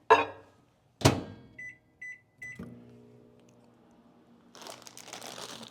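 A microwave oven melting chocolate chips: a crinkle and clunk, three short beeps, then a steady hum as it runs, with a rising noisy whir near the end.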